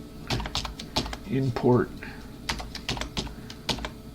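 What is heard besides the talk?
typing on a computer keyboard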